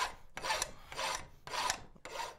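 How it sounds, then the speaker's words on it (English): A hand file is stroked across a metal lug clamped in a vise, shortening it to length: four even rasping strokes in a steady rhythm, close and fairly quiet. "File this down to length."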